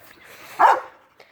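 A single short bark from a dog in a household with a white husky and a boxer, brief and fairly close against quiet background, with a faint second yip after it.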